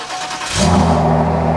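Shelby GT500 V8 cold start: a brief starter crank, then the engine catches and settles into a loud, rumbling idle right up close.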